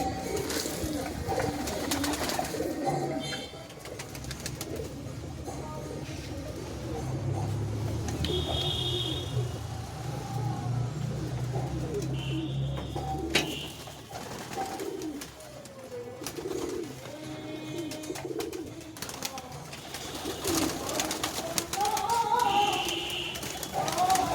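Several high-flying Giribaz pigeons coo and murmur close by in a long, steady stretch of soft rolling calls, with faint background noise throughout.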